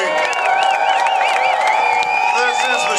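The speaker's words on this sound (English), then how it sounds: "Fucking round of applause for all of you for coming out here today." A crowd at an outdoor 420 Day gathering in 2013 cheers, whoops and claps continuously, loud and close, with excited voices rising throughout.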